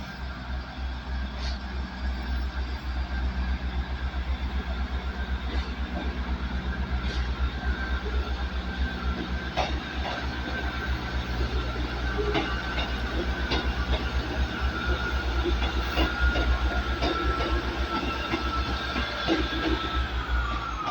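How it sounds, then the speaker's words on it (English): A Northern Class 158 diesel multiple unit pulls out of Carlisle station on a service to Leeds, its engine a steady low rumble with faint rhythmic wheel clicks throughout. "departing Carlisle now, so Northern service to Leeds with one of their 158s, 158757"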